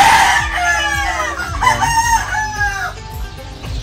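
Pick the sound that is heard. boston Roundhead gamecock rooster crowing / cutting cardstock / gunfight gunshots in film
boston Roundhead gamecock rooster crowing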